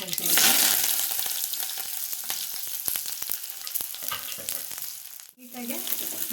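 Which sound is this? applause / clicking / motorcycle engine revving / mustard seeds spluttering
mustard seeds spluttering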